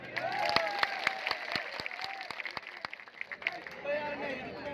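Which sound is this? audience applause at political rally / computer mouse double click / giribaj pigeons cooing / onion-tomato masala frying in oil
audience applause at political rally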